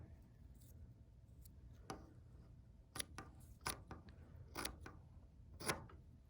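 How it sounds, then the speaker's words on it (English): Scissors cut strips into a small piece of cardboard in a quiet room, making a string of crisp snips and crunches spread unevenly over several seconds, faint and close. "use the 4x1 inch piece of cardboard and cut strips along each side"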